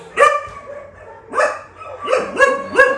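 A dog barks several times, nearby, in short bursts spaced irregularly over a few seconds, with no talking.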